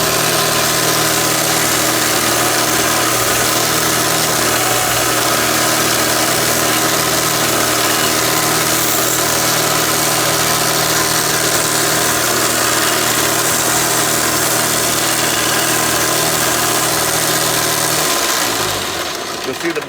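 A tape sander running a 1-inch belt, used to sand a symbol, holds a loud, steady motor drone with a constant hum for most of the stretch, then winds down near the end.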